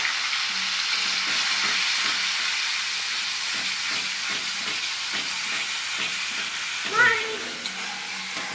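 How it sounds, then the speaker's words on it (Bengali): Steady, close sizzling of egg-curry spices with grated onion frying in hot oil, with a short, faint higher-pitched sound breaking through near the end. "এবার মশলাটা ভাজা হচ্ছে"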